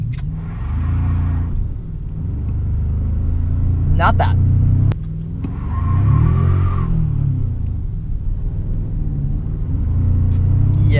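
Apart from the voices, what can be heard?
Toyota Tacoma TRD Pro truck doing a burnout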